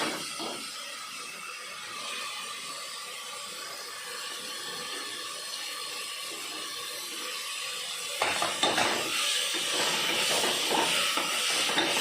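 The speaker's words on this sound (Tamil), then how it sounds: "நல்லா புதினா கொத்தமல்லி தலை நல்லா வதங்கணும்" Ginger, garlic, mint and coriander leaves sautéing in a pan for vegetable biryani, a steady soft hiss of frying that turns louder and busier near the end as the pan is stirred, with no talking.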